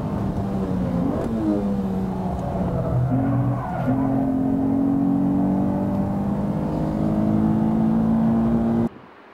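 A race car laps Fuji Speedway at full throttle, its engine loud and close with a steady high drone that shifts pitch through gear changes and climbs again, with tire noise underneath, until the sound cuts off abruptly near the end.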